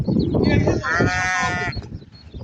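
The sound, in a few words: sheep and lambs bleating at a sheep market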